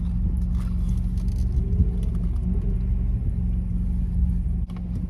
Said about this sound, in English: That's a Corvette C8.